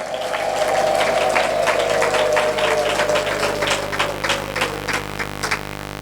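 A church congregation claps in praise of God, a steady crowd applause that runs the full length while a sustained tone fades beneath it.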